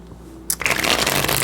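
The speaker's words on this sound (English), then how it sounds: "I'm gonna give these bad boys a shuffle right quick." Tarot cards shuffled by hand, a brief snap and then a loud, dense riffling rustle that continues close up.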